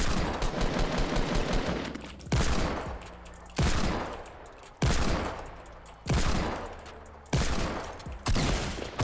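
Gunfire in Fortnite from a Deagle and an assault rifle: about half a dozen loud, sharp shot bursts at roughly one-and-a-half-second intervals, each decaying quickly, with continuous rapid fire at the start.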